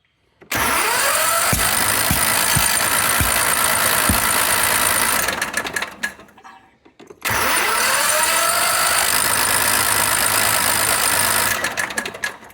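A car engine that had run out of fuel in the cylinder cranks with a few starter knocks, catches and roars steadily, cuts out briefly, then fires up and runs loud again.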